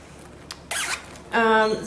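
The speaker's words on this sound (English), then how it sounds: "a little Scotty dog zipper pull, so cute" Zipper pull on a Scotty dog bag zips briefly, a short scratchy burst followed by a longer rasping pull, close up and loud.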